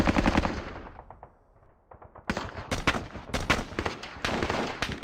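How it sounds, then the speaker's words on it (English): Mortar shells exploding in the war video game Squad Battles, a burst of loud sharp blasts, a brief near-quiet gap, then a rapid stuttering run of close, punchy detonations and crackling impacts. "It's never nice to get a mortar shell flying down on your head for your trouble."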